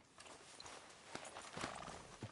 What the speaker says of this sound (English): But I do kind of like this horse.